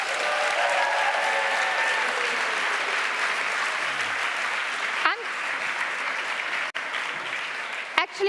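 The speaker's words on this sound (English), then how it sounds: "So an applause for you." Audience at the histoCON 2022 closing session breaking into dense, sustained applause that fills the room evenly, with a couple of brief knocks near the end.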